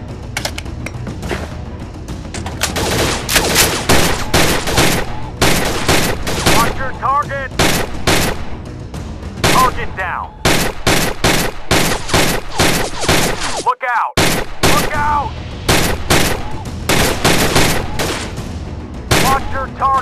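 A gold AK-47 assault rifle in the Gun Club VR game fires rapid, loud bursts and single shots in a steady stream, with brief pauses for reloading and a short gap near the end.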